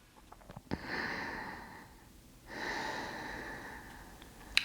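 Two long, slow breaths during a seated yoga twist, each a steady airy rush close to the mic with a pause between them, and no talking.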